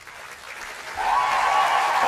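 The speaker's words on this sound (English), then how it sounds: "A huge cheer from Scotland's charity air ambulance" A crowd bursts into cheering and applause for Scotland's Charity Air Ambulance crew, swelling suddenly after a quiet second and continuing loud to the end.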